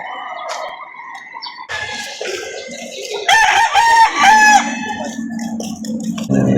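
Roosters crow loudly and close among clucking chickens at a livestock market in Laguna, several overlapping calls rising and falling with some background chatter.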